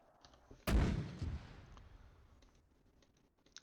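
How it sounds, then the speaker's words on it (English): An artillery gun in the video game Northern Fronts fires a smoke shell: one sharp, heavy boom that rolls away in a long decaying rumble, with faint clicks around it. "let's fire a couple of them"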